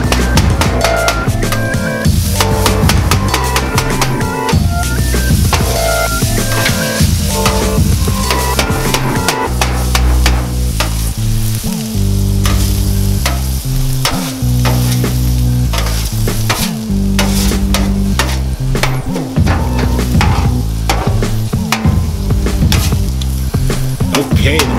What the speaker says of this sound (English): Oh, did you want to hear the chopping?